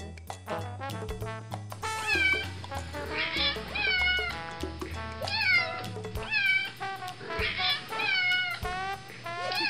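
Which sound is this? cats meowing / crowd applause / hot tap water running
cats meowing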